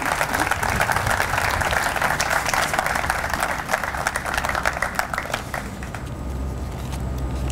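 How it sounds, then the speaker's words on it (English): A ceremony audience applauds nominees and winners at a civil service employee of the year award event, steady dense clapping filling the room before easing slightly near the end. "Please give the nominees and the winners a round of applause"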